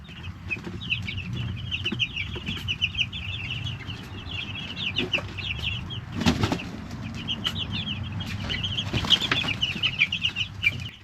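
Young broiler chicks in a brooder on a small farm, a steady chorus of high cheeping and peeping with bursts of wing flapping and scuffling, close and continuous with no talk.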